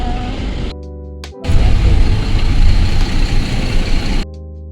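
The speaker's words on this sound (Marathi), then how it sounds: "गुहागरने आम्ही जाणार आहे फेरी बोटनी, दाभोळ टू गुहागरला." Ferry boat engine idling on the Dabhol to Guhagar crossing: a loud, deep, continuous rumble with broadband roar that swells up partway through and holds steady before cutting back to a quieter hum.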